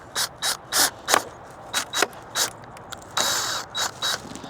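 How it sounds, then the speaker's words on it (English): Screws are driven in with a ratcheting tool in a quick series of short, even mechanical bursts, close and fairly loud, with one longer continuous run partway through. "So I'm going to take this, pop in some screws."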